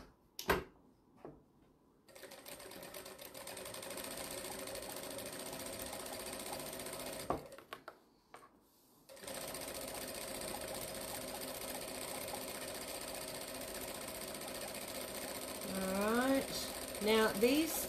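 A sewing machine stitches jelly roll fabric strips in long, steady runs of rapid mechanical chatter, pausing briefly between runs, with a voice speaking now and then.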